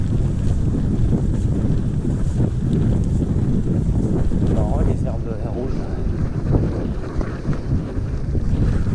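Strong headwind buffets the microphone in a constant loud rumble while riding a gravel bike, with water sloshing beneath it and a brief spoken remark partway through.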